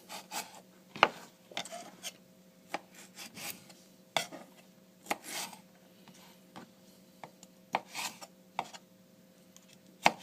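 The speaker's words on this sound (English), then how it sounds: "So now I like chunky tomatoes, so I just cut these in half one time." Paring knife slicing tomatoes in half on a cutting board for guacamole, a run of sharp, close taps and scraping cuts scattered irregularly over a quiet background.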